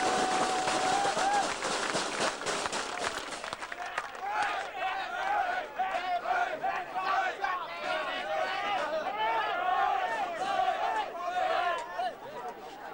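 A large outdoor crowd at an under-19 rugby league grand final between Berala and Enfield applauds and cheers the players, steady clapping mixed with shouts and whistles under loudspeaker announcements.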